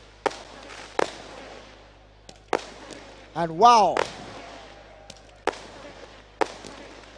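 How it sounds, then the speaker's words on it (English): Fireworks at Accra Sports Stadium celebrating a football promotion win pop in sharp, scattered bangs at a distance, with a crowd-like roar and a commentator speaking over part of it. "as fireworks being done here at the Accra Sports Stadium"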